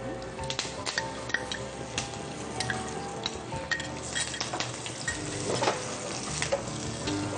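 Curry leaves hit hot oil in a pan while bisibele bhath is cooked, giving a dense, crackling sizzle with sharp pops and occasional clinks of a spoon against the pan, steady and close.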